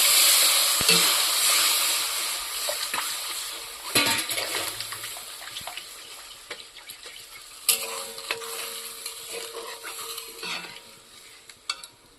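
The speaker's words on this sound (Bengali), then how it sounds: "এবার আমি এর মধ্যে পরিমাণ মতো জল দিয়ে দেবো" Water poured into fried spice masala in a pan sets off a loud hiss that eases into a bubbling simmer, broken by several sharp spoon clinks and stirring scrapes against the pan.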